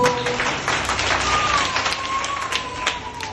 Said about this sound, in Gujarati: તાળી આપો